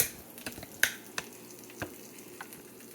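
An egg frying in a pan gives a soft, steady sizzle with scattered sharp pops and crackles, fairly quiet and close, with no talking.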